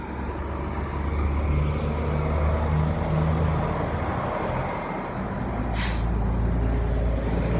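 Heavy truck rolling past on a roadway near a Grand Island Walmart, a steady loud engine and tire rumble with a short sharp hiss of air brakes partway through, no voices.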